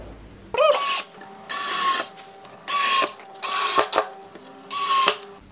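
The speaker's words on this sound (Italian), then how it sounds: "adesso siamo pronti a mettere le viti per fissare cornice e top. Siamo pronti ad avvitare." A power driver sets screws to fix a wooden outdoor folding table's frame to its top, running in five loud, close whirring bursts of about a second each, separated by short pauses.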